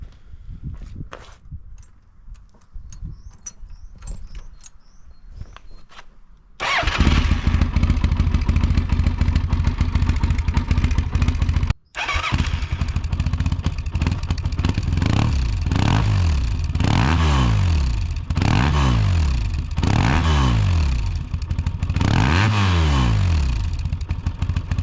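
A Yamaha TDM850 motorcycle with a cheap aftermarket exhaust and its baffle fitted starts up after some shuffling and clatter, then idles loudly and blips through several rising revs, close and dominant with no voices.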